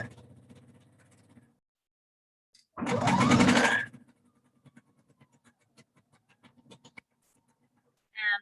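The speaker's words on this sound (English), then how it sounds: "I'm just sewing the edge of the pocket to the edge of the tier where I just pinned them all." Sewing machine stitching the edge of a pocket to a dress tier, one short loud whirring burst of about a second amid quiet handling clicks.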